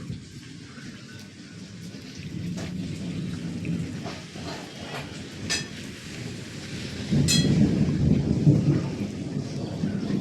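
Rain pouring outside a house during a cool-weather storm, a dense steady patter with low rumbles of thunder rolling underneath and the downpour swelling louder toward the end.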